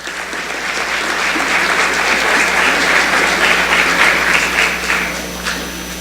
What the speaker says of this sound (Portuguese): vereador Marcial Manão, a quem eu peço uma salva de palmas.